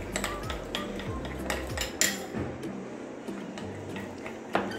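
A spoon beats a batter mixture for homemade choco chips in a bowl, making rhythmic clinks and taps against the bowl's side with soft wet stirring between strikes, fairly close, with no talking.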